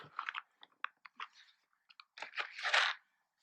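Dark Vietnamese chocolate being bitten and chewed up close, a series of short crisp snaps and crunches followed by a louder, denser burst of chewing near the end, with no talking.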